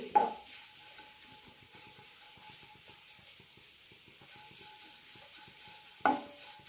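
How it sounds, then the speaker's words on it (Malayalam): Drumstick leaves dry-roasting in a pan over a low flame, with faint, soft scraping strokes of stirring repeating steadily against a quiet background and a louder clink near the start and end. "ലോ ഫ്ലെയിമിൽ ചെയ്യുന്നത് കൊണ്ട് കുറച്ച് ടൈം കൂടുതലെടുക്കും മുരിങ്ങയില വറുത്തെടുക്കാൻ"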